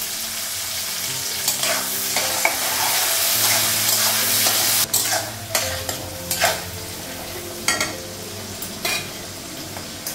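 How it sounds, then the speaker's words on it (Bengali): Onions and salt sizzle and fry steadily in a hot pan, with a spatula stirring and scraping in sharp bursts over the continuous hiss; no one speaks. "পেঁয়াজটা ভাজা হয়ে গেছে"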